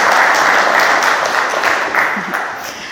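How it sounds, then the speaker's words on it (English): A wedding ceremony crowd breaks into sustained, loud applause that fills the whole moment, dense clapping from many guests with faint voices mixed underneath. "Let's have a round of applause,"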